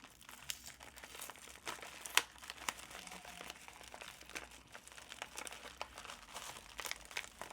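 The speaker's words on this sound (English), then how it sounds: "I do want to open up some Happy Mail that I got from Kimberly Budgets." Wrapping on a mailed package crinkles and rustles as it is opened indoors, a run of soft, close crackles and small taps over a quiet room, with no speech.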